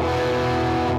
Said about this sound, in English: then I can really drive it with some more distortion